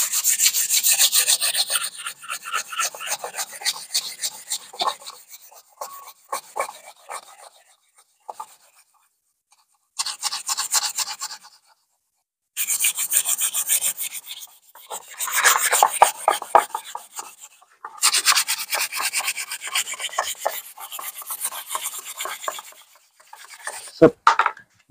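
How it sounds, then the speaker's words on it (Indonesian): Close, rhythmic rubbing of wet sandpaper over a forged carbon part for a Honda PCX 160 scooter, coming in repeated bursts of strokes separated by short pauses, with a few quiet sounds of handling between them. "Karena kalau gue amplas lagi nih."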